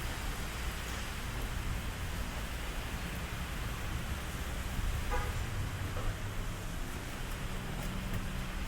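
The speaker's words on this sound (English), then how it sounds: "We are in the middle of a thunderstorm here." Steady thunderstorm rain pours down at a Denver strip mall with a dense, even hiss, heard alone with no talking and no distinct thunderclaps.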